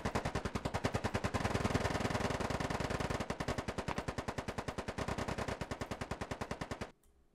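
Rapid sustained machine-gun fire in a video game squad battle, a dense barrage of evenly spaced shots for about seven seconds before stopping abruptly, fairly distant and quiet overall.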